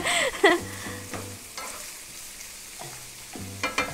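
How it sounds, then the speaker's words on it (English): Top sirloin sauteing in a pan with red pepper in a taco house kitchen, a soft steady sizzle with stirring and scraping of a utensil against the pan, no talk. "the top sirloin is just sauteing beautifully"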